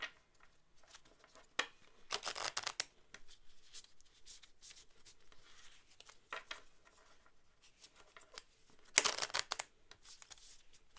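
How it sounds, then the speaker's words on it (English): Oddly shaped oracle cards are shuffled by hand in close, quiet bursts of papery riffling and sliding, with soft crinkles and taps between the louder shuffles. "These are really fun to shuffle because they're such a weird shape."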